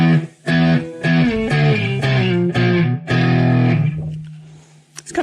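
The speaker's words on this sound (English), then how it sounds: "Or if you want it to be sounding like a Marshall, you can do that too." Electric guitar played through a small, modest amp with built-in reverb, its distortion set for a Marshall-style tone: a run of loud, crunchy strummed chords ending in one sustained ringing note that fades out.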